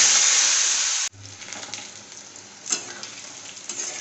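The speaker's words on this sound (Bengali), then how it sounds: "এবার আমি এই তেলের মধ্যে এই পটলগুলো ভেজে নেবো।" Pointed gourd (potol) pieces frying in hot oil in a kadai: a loud bright sizzle opens the clip, cuts off abruptly, then settles into a softer steady crackle with occasional pops.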